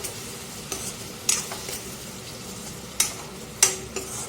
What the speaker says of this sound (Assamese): এতিয়া মই এইখিনি ইয়াতে দি দিম, দি পেলাই অলপ সময় ভাজিম